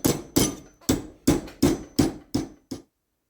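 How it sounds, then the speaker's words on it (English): A small thick hammer taps down the edges of a metal sheath being formed for a San Francisco Bowie knife, about eight sharp, ringing metallic strikes at a steady, unhurried rhythm, close and fairly loud, each decaying briefly before the next, with no talking. "with a hammer I'm just going to start slightly tapping down the edges to start forming around the form"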